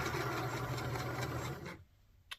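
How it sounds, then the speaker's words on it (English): Sewing machine stitching a quilt, running in a steady continuous whir for nearly two seconds before stopping, with a small click after. "And it's just me and my sewing machine."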